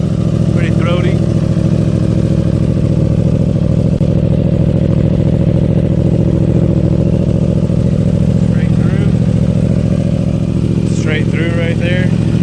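A 2015 Yamaha R1 motorcycle fitted with a Two Bros exhaust idles loudly and steadily nearby with a deep, throaty rumble, while someone talks intermittently over it.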